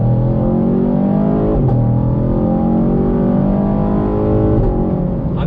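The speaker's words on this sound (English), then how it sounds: "You're getting a great sound out of the back of the car." A 2019 Chevrolet Camaro SS accelerating in automatic mode, its engine and exhaust giving a loud, continuous rising drone with pitch climbing across gear shifts, heard close from inside the car and with no talking.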